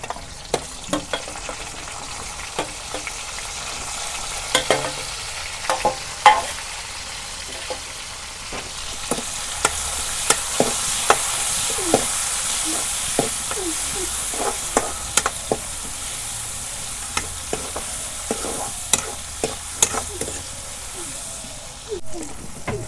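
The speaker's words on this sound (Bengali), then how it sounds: "তেল গরম হচ্ছে, এখন দিয়ে দেবো পেঁয়াজ কুচি।" Chopped onions fry in hot oil in a kadai, giving a long, close, crackling sizzle with scattered pops and occasional stirring knocks, and faint speech now and then.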